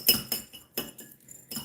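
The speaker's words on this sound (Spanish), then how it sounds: "Ya nomás con 2 tenedores y le empiezan a deshebrar así" Two forks scraping and clinking against a dish while shredding cooked chicken for quick chicken enchiladas, a few close, sharp metallic taps in an uneven rhythm with short pauses between them.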